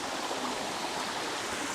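A small waterfall on Vancouver Island with little water flowing gives a soft, continuous rushing hiss, even and fairly faint, with no other sounds.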